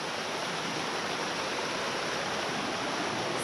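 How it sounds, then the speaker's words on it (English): Rushing creek water flowing beneath a snowy High Sierra trail crossing, a dense, steady roar of broadband noise filling the whole short stretch without pause. "we're under where you would cross with the raging waters"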